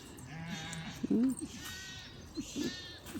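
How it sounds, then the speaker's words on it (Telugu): A flock of sheep with lambs bleats in the early morning, several calls near and far, some loud and wavering, mixed with a voice talking. "పొద్దున్నే వచ్చినాయి మా ఏరియాకి గొర్రెలు చూడండి గొర్రెలను గొర్రెల పిల్లలు చూడండి"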